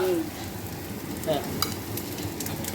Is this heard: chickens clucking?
no